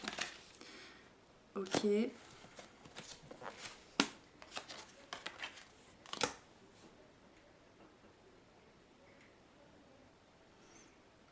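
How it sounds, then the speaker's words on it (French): Tarot cards being turned over, a few quick papery flips and soft snaps close to the microphone, with a voice speaking briefly between them. "j'ai besoin de retourner les cartes"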